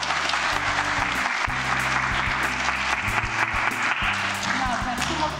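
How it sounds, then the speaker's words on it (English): A crowd at a school assembly claps and cheers, a dense, loud wash of applause with voices mixed in, sustained without pause from start to finish. "so we can give ourselves a cheer"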